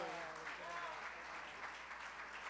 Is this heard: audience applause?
yes